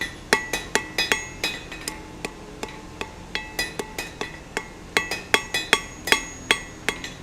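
A hammer rings repeatedly on hot steel being drawn into a square taper on the edge of an anvil. Sharp metallic strikes come in quick rhythmic bursts with brief pauses, clear and close, with no voices.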